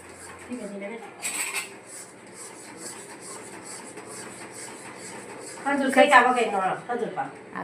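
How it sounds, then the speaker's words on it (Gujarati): Dates are stirred into khoya in a pan for a date sweet, with a spoon scraping and clinking against the metal. The scraping is steady, grows busier near the end, and runs under a person talking. "હવે ખજૂર મિક્સ થાય છે"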